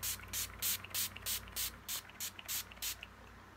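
Makeup setting spray misted in about ten quick, evenly spaced hissing bursts, close and fairly quiet, with no talking.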